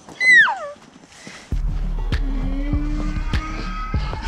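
A Kermode bear at BC Wildlife Park in Kamloops gives a brief, high, falling cat-like mew, after which a nearby vehicle engine starts and idles steadily.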